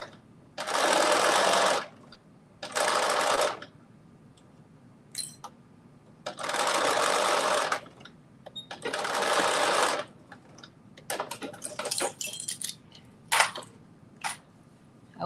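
A sewing machine stitches a garment seam in several sustained whirring runs of one to two seconds each, close and loud, separated by pauses filled with small clicks and fabric handling.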